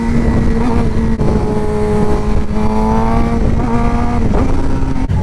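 2015 Suzuki GSXR600 sport motorcycle on the road, engine holding a steady high-pitched whine with gear-shift dips and rises, loud and close from the rider's position, with no talking.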